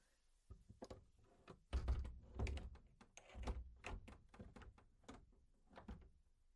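In a small cartoon house, doors are shut and locked one after another, giving a quick series of quiet thunks, knocks and latch clicks with no speech.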